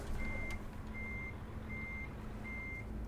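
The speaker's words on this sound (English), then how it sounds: "we're going to reverse into that truck" Reversing beeps from a MAN TGX truck in Euro Truck Simulator 2: four evenly spaced electronic beeps ring out over a steady low engine drone, with no talking.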